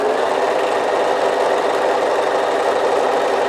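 A sewing machine runs steadily through a faux leather bag seam, back-stitching to lock the stitches; a close, continuous mechanical whir and rattle fills the whole stretch with no pauses and no voices.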